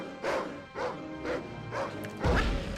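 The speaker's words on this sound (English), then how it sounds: "What a dog!" A dog in the 1999 Medal of Honor video game barks four or five times in a steady rhythm, fairly close, followed by a louder crashing impact at the end.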